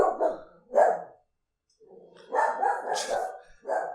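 A dog named Chai barks in bursts, several sharp close barks separated by short pauses, loud and alone with no talk over them.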